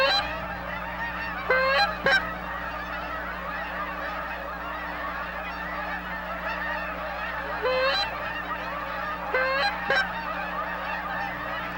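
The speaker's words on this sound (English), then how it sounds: "There's thousands and thousands of geese here north of Winnipeg." Thousands of Canada geese honk north of Winnipeg, Manitoba, forming a dense, continuous chorus of overlapping calls with a few louder, nearer honks rising out of the flock now and then.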